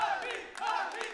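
A crowd at the Tekken World Tour 2019 Finals roars and shouts in excited bursts, a brief swell of cheering voices close and loud.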